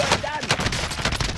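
Rapid gunfire bursts crackle loudly in an online shooter video game, dense and close over a brief moment, with voice chat mixed in.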